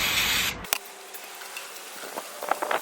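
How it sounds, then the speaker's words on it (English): A hissing blast of Muc-Off cleaner sprayed onto a bike at the start cuts off abruptly, followed by quieter brief rubbing and spritzing sounds near the end. "just give that a good spray over"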